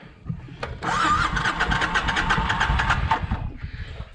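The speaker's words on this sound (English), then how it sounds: "I'll see if the bike starts." A motorcycle engine cranks with a few short churns, then starts and runs with a loud rhythmic starter-like chatter for a couple of seconds before settling and fading, close by with no talk.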